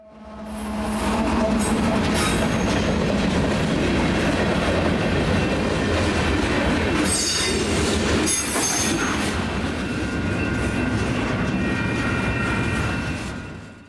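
A long freight train with a locomotive placed mid-train rolls steadily past at close range, a loud continuous rumble of wagons and wheels with squeals and a surge of noise partway through, fading slightly at the end.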